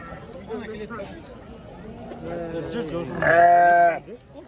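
Sheep bleating at a busy Kyrgyz livestock market, several calls rising from the crowd before one loud, drawn-out bleat close by near the end, heard over people talking.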